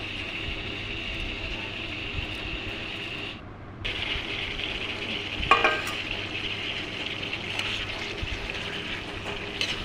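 Meat sizzles steadily in a pan with chili, ginger and garlic paste as salt is added, a continuous close hiss that dips briefly midway and carries a small clatter of stirring.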